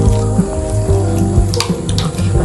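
Water spurting from the first hole opened in a filled, capped plastic bottle during a static-fluid experiment, a steady splashing trickle with low gurgling, continuous and close for the whole stretch.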